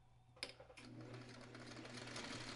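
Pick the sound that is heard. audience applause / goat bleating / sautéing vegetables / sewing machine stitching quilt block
sewing machine stitching quilt block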